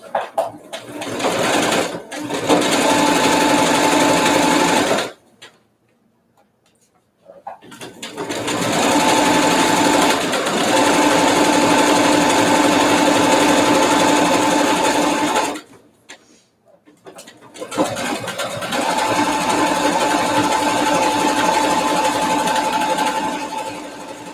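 A sewing machine stitches ultra high-waisted jeans in long, steady loud runs, stopping twice briefly before starting again, close by with no talking.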